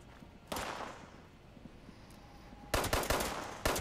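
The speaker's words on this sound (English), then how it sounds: "Who the fuck is shooting at me?" Gunfire in the video game Fallout comes in two loud rapid bursts, a short volley early and a longer automatic stream near the end, with quieter game ambience between.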